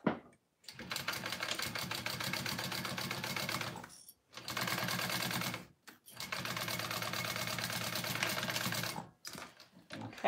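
A sewing machine stitches a 1/8-inch basting seam joining pieces of a handmade wallet, running in three sustained bursts of rapid, even needle rattle separated by short pauses.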